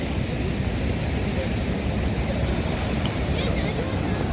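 Floodwater surges across a submerged small bridge on a river brimming over both banks, a loud, continuous broadband rush with steady wind-like roar and no clear breaks.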